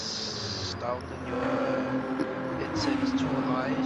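Racing car engines from the video game Gran Turismo 7, picked up faintly through headset bleed into a microphone, rising and shifting in pitch as the car accelerates.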